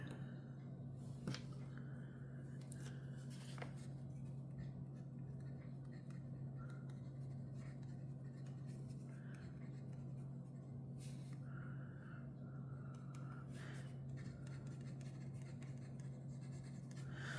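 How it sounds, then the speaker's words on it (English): A fountain pen writes a name on paper, making faint, soft scratchy strokes in short bursts against a steady low room hum, with no talk. "we just need to write the name on here"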